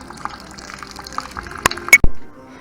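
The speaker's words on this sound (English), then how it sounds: "doing our first round of sparging" Sparge water pours into a grain mash in a Grainfather brewing system during an imperial stout brew day, a close trickling and dripping splash that builds to a few sharp clunks before stopping.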